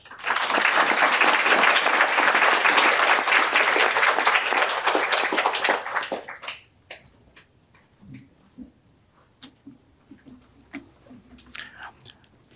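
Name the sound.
audience applause welcoming a speaker to the stand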